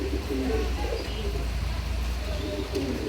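Big grey Lahori pigeon, a silver-grey bird, cooing close by in low soft rolling calls repeated over a steady background hum.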